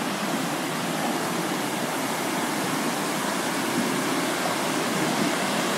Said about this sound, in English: Behind me we've got this series of cascades which are...